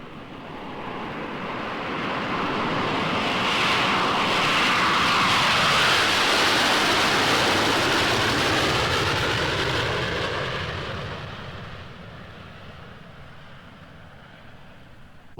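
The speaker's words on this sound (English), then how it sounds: "here is that same jet as it really sounds, just as if you were at the airport in living stereo" A jet airplane passes at an airport, recorded in stereo: a broad roaring rush swells to a loud peak midway, then slowly fades into a distant lingering rumble.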